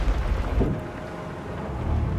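Steady, hissing rain falls in the fantasy video game Divinity: Original Sin 2, with a low rumble beneath it. The wash of rain is continuous and moderately loud throughout, and there are no voices.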